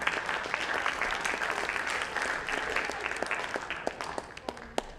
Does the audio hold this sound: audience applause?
yes